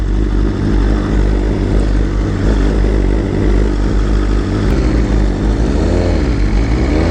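A BMW M1000RR superbike running on E85 fuel rumbles loudly and steadily up close, its engine note holding at low revs with slight rises and falls throughout.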